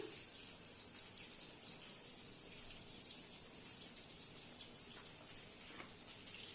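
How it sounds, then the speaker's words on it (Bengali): Whole eggplants coated in turmeric spice mix frying in a pan for a hilsa fish dish, giving a faint, steady, hissing sizzle with small crackles throughout and no talking. "বেগুনগুলো এবার ভেজে নিচ্ছি"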